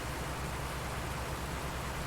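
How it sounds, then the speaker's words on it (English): Rain falls steadily in a farming survival video game, a constant dense hiss with no breaks, uniform and fairly soft, with no voices over it. "it still hasn't stopped raining"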